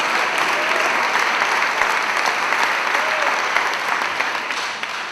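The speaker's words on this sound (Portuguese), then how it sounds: "dá uma salva de palmas para Jesus Cristo" Steady, loud applause from a church congregation gathered at an Assembleia de Deus service fills the space for several seconds, tapering slightly at the end, with faint voices mixed in.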